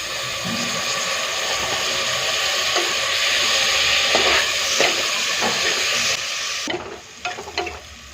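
Tomatoes frying in ginger garlic paste for prawn biryani: a loud, continuous sizzle with occasional stirring scrapes, fading and thinning toward the end.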